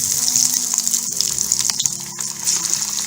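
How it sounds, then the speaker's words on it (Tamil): Corn cheese balls deep fry in a kadai of oil over a medium flame, giving a continuous loud, close sizzle and bubbling hiss. "மீடியம் ஃப்ளேம்லேயே பால்ஸை பொரிங்க."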